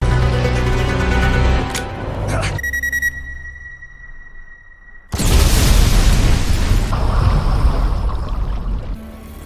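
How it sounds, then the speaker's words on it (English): A sudden, massive car bomb explosion booms out after a tense lull with a high electronic tone, followed by a long roaring rumble and debris noise. "made the bomb installed in the car seat explode instantly"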